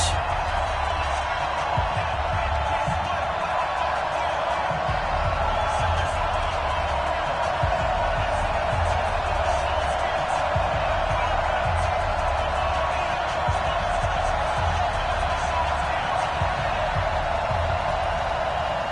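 Stadium crowd in a PS4 American football video game, New Orleans Saints versus Atlanta Falcons, a steady dense roar that holds loud and unbroken throughout, with no talk.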